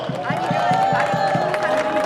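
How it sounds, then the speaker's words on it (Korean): A crowd at a campaign rally claps and cheers to welcome a speaker, rhythmic clapping loud and close, mixed with shouts and voices. "뜨거운 박수로 맞이해 주십시오."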